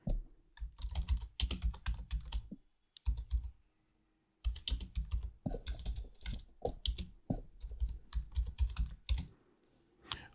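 Close, crisp computer keyboard typing comes in quick bursts of clattering keystrokes, broken by a few short pauses, while commands are entered during a Debian 10 server setup; no talking.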